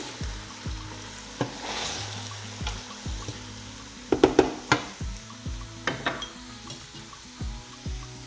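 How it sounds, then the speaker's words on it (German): Minced meat and leek sautéing together in a pot for cheese-leek soup: a soft, steady sizzle under repeated spoon knocks and scrapes against the pot, with a quick cluster of stirring clatter midway and no talking. "Das wird dann mit dem Fleisch hier vermischt und dann lassen wir dünsten."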